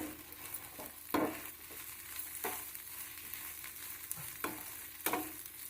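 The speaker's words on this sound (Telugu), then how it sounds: "కారం వేసి ఒకసారి బాగా కలిపేసుకుందాం" Chili powder is stirred into a frying flat bean fry, a soft continuous sizzle broken by several sharp scraping strokes of a spatula against the pan, recorded close and fairly quiet.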